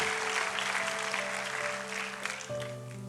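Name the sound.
congregation applauding in church service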